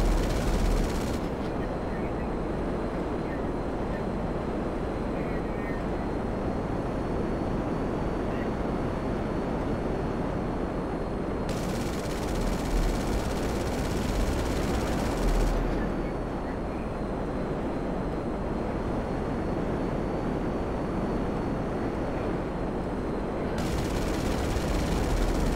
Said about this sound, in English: I'll crash my jet in to get you